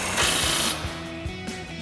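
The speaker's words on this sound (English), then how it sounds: "Grab our 18 millimeter socket and tighten that back down." An 18 mm socket on a ratchet tightens a sway bar end link nut on a Ford F-150 front suspension, giving a burst of quick clicking followed by a few separate, sharper ratchet clicks, close and alone.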